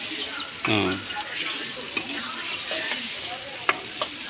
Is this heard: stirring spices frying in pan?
yes